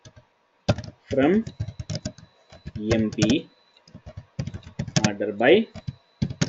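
Computer keyboard clacks out a SQL query in quick bursts of typing, close and crisp, interleaved with someone talking.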